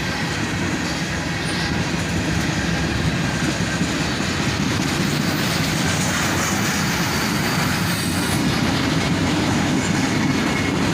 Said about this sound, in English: Check out this cut of green Procore tank cars.